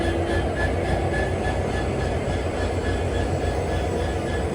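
WDP 4D diesel locomotive idling and running at a station before a Panchaganga Express departure, a steady low rumbling drone with mechanical rattle, moderately loud and continuous with no talk.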